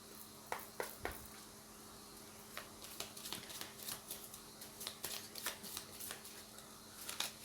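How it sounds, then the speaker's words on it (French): Angel oracle cards being shuffled by hand, soft papery riffles and flicks repeating irregularly for several seconds, close but quiet, with no talking. "je vais tout simplement tirer une petite carte des oracles des anges"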